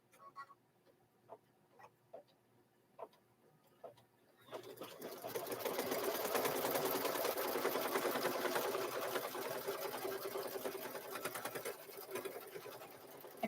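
An embroidery machine stitches a zipper bag in the hoop, running a line of stitching after quilting. A few soft clicks come first, then a steady, close mechanical whirring hum that continues to the end.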